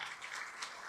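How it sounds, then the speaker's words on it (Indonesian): An audience claps steadily in a hall during a talk about Atomy products, a continuous wash of applause with no speech over it. "Berikan tepuk tangan."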